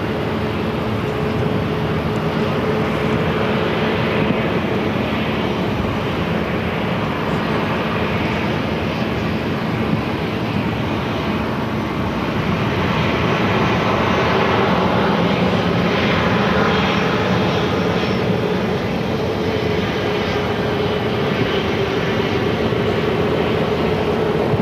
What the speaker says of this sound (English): This flight heading back to Portland, it's a 737 MAX 9.